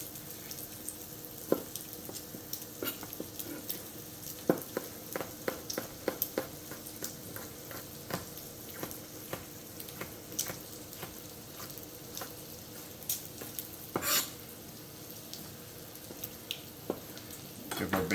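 Bacon sizzles and crackles quietly in a pan with scattered pops and faint clatter throughout.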